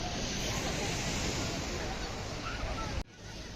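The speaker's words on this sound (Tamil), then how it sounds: "இதுதான் மக்களை திருச்செந்தூர் பீச்சு." Surf and wind at Tiruchendur beach make a steady, loud roar of breaking waves with gusty microphone rumble. It cuts off abruptly near the end.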